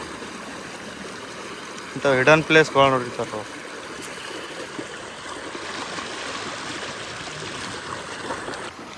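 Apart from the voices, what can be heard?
water flowing through a channel from a canal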